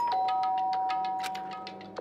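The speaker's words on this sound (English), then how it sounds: "and pressed the doorbell" A chiming electronic doorbell in a video game, Danganronpa: Trigger Happy Havoc, rings out as a quick, steady series of bright tones, clear and close, with a long sustained note beneath.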